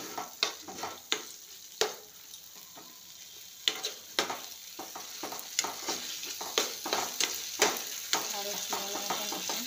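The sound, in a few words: capsicum being stirred into frying spices in a pan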